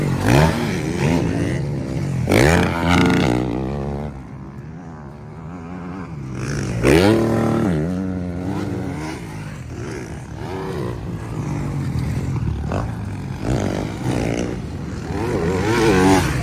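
Yamaha racing motorcycle engine roaring loudly at a Pro Open race, with repeated revving surges and harmonic whine rising and falling close by, continuous throughout.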